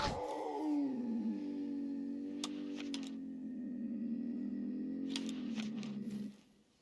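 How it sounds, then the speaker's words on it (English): A mountain lion in The Hunter Call of the Wild lets out a long, loud, throaty roar that holds for several seconds before trailing off, punctuated by a few sharp clicks. "Because this mountain lion does not sound happy."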